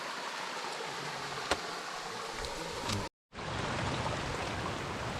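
Steady broadband rushing of flowing water, like a stream running over rocks, with a brief dropout near the middle.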